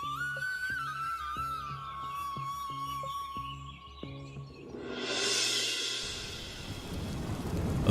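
A cartoon thunderstorm bursts in after a tonal musical passage, with a rushing wash of heavy rain and a rumbling swell building in the second half and staying loud to the end.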